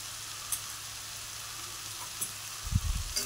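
Soft, well-cooked cabbage with a little sugar stirred in a frying pan, giving a low steady sizzle with a few faint scrapes and then a cluster of soft thumps near the end as the spatula moves it around.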